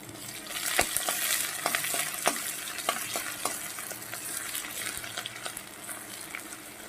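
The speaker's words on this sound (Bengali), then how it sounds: "এই পর্যায়ে দিয়ে দেব কুচানো রসুনটা, আর দিয়ে দেব গ্রেট করে রাখা আদাটা।" Chopped garlic and grated ginger fry in oil over tempering spices for a simple dal, a continuous soft sizzle punctuated by sharp spatula scrapes and taps, close and without voices.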